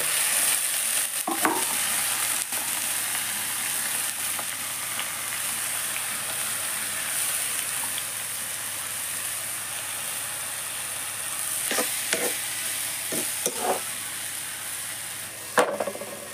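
Onion, potatoes and vegetables stir-frying in a pan, a steady close sizzle with occasional scraping stirs and clinks of a utensil, no talking.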